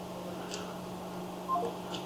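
A phone emits a short run of electronic tones during a call, a few brief beeps rising over a steady low hum, close and moderately loud.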